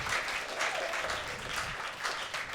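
A comedy club audience at a stand-up show claps and cheers in a dense, lively burst that holds steady throughout.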